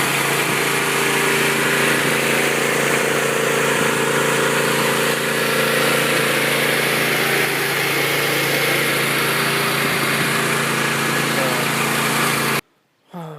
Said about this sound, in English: that's what it sounds like whenever the mower's running